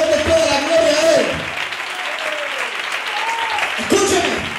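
Church congregation applauding during an evangelical service, steady broadband clapping throughout with a preacher's raised voice cutting in near the start and again near the end.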